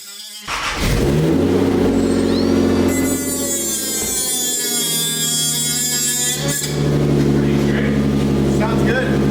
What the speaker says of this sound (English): That little grinder made light work of that